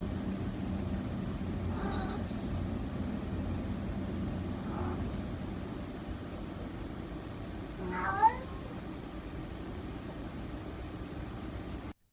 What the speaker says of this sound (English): The cat meows 3 times.